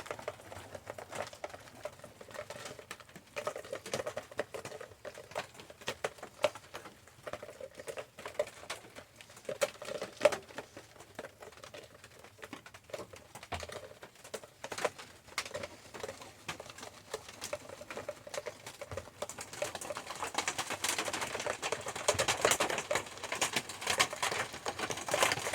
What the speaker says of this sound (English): And it's raining again, y'all. Sorry about the tapping on the roof.